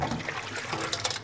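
Hot water used to blanch tomatoes pours out of a cooking pot into a sink, a continuous splashing gush of liquid, fairly quiet and close.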